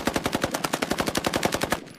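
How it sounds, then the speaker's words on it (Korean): Rapid machine-gun fire in an audio drama about a dawn escape across river ice, a steady burst of about twenty evenly spaced loud shots over two seconds, with no voices. "총성이 새벽 어둠을 찢었습니다."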